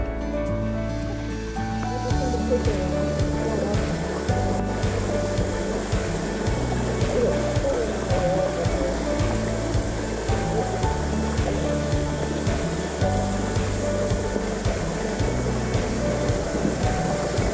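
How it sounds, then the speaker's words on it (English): A small waterfall on the Blue Ridge Parkway splashes and rushes in a steady stream nearby, with a low rumble and a few faint knocks underneath. "Cute little waterfall."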